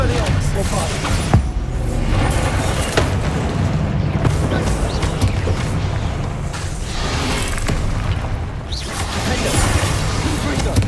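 Confringo and Bombarda spell blasts in the Hogwarts Legacy game roll on as a loud, continuous barrage of booming impacts and crashes, with a few sharper hits standing out from the dense combat din.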